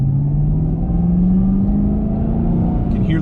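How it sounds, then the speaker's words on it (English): A 2021 Chevrolet Camaro ZL1 1LE supercharged engine rumbles steadily at close range, its exhaust droning low with a slowly rising pitch, continuous throughout without pauses. "You can hear the exhaust."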